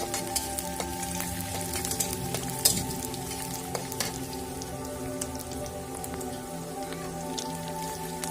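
Sliced onion and cumin seeds fry in a pan, giving a quiet, even sizzle with light crackles and one brief sharper pop, steady throughout with no talking.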